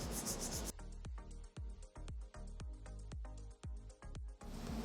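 Hand sanding of Terreon solid surface material with 220 grit sandpaper, heard as a close run of quick, regular rasping strokes with short gaps, about a dozen in a row, and no voice over it.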